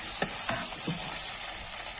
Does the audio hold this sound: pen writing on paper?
no